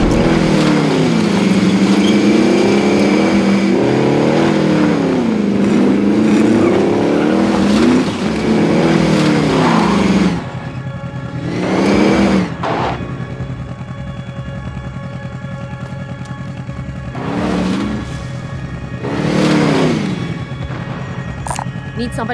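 In-game vehicle driving in Call of Duty: Modern Warfare Warzone Plunder mode, a loud steady engine drone with revving rises and falls, later quieter with several whooshing surges, alongside game radio voice lines.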